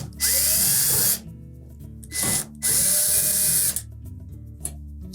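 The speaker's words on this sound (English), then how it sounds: "next we'll remove the screws across the top" Cordless power drill backing screws out of the top panel of a Samsung dryer: several loud, close whirring bursts with short pauses between them, the pitch sliding as each screw loosens.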